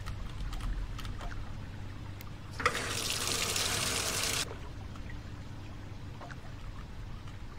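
A tap runs water for a hot water task in the video game Goose Goose Duck, a bright rushing stream that starts abruptly, holds for about two seconds and cuts off, over a low steady background hum.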